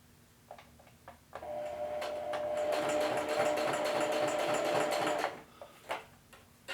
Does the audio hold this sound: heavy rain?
no